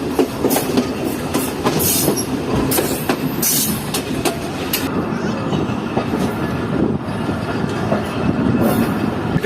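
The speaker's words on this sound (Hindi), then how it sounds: "ट्रेन एंटर हो चुकी है लाड़काना शहर में" Pakistan Railways train rolling into Larkana station, loud and close, with rhythmic clickety-clack of wheels over rail joints, sharp clanks and brief wheel squeals over a steady rumble.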